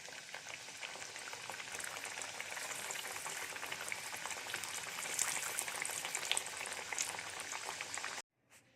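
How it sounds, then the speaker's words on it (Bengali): Peas kachuri fry in hot oil with a steady, dense sizzle and bubbling for about eight seconds before it cuts off abruptly. "একইভাবে আমি সব কটা ভেজে নেব কচুরিগুলো"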